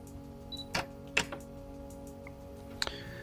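A Canon 7D Mark II shutter fires at 1/1000 second, a few short sharp mechanical clicks spaced over a few seconds against a quiet room hum, close and fairly faint.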